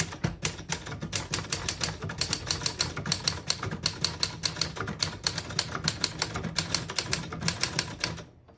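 A 1966 Remington Holiday portable typewriter types a sentence in a steady stream of sharp, close key strikes at a brisk, even pace, heard alone for about eight seconds.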